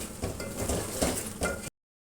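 Heart and lung pieces roast with cumin in a hot pan, a close sizzle mixed with metal scraping and stirring clatter, ending abruptly after under two seconds.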